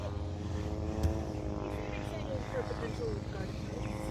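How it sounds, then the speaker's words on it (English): A small propeller plane drones overhead in cold outdoor surroundings, a steady, moderately loud buzzing that fills the background while people talk nearby. "it's like so loud with this weird little plane thing flying"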